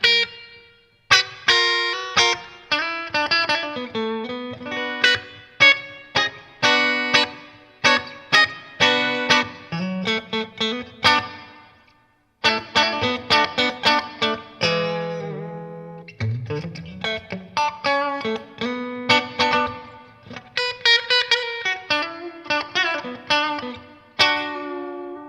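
Guitar played through a Strymon BigSky reverb pedal set to an enlarged hall, plucked notes and chords ringing out into long, spacious washes that trail between phrases, alone with no talk.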